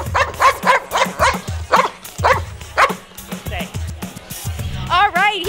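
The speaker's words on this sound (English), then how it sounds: "He can definitely bark on demand." A dog barks on cue at the World Dog Awards 2015 green carpet, a run of sharp repeated barks up close, followed by a few whimpering yips; a person's voice is heard briefly near the end.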